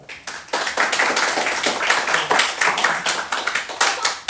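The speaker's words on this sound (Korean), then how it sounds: "박수." A classroom of second-year students claps hands together in a lesson, producing a dense, rapid flurry of close, crisp claps that holds steady for about four seconds.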